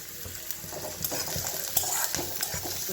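Onions frying in a pan with steady crackling sizzle and occasional stirring scrapes, close and fairly quiet.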